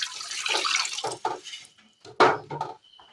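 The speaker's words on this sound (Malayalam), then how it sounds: "അടുപ്പത്തൊരു ചീനച്ചട്ടി വെച്ച് കൊടുത്ത് അതിലേക്ക് അല്പം വെള്ളം ഒഴിച്ചു കൊടുക്കാം" Water is poured from a vessel into a Kerala-style cheenachatti wok set on the stove, several uneven splashing gushes with short pauses between them, close and moderately loud.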